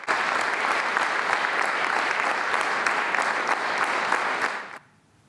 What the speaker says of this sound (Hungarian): A közönség természetesen minden zeneszámot tapssal jutalmazott.